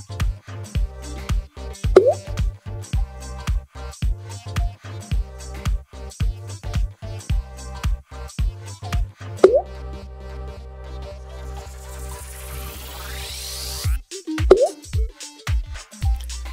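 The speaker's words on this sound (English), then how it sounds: "you will take your 4 eggs and crack them into a bowl" Four eggs being cracked into a bowl while making Oreo cheesecake cupcakes, heard as a series of close, sharp cracks and plops repeating at an uneven pace with short pauses between them.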